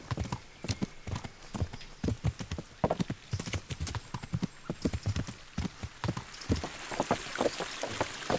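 Horse hooves clip-clop steadily while riding in the medieval game Kingdom Come: Deliverance, a close, rhythmic clatter of repeated hoofbeats with faint rain-like patter in the background.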